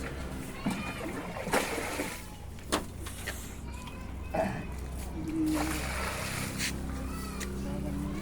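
Water splashes repeatedly in irregular scoops and slops as a well in the rural Philippines is bailed out, while people talk nearby.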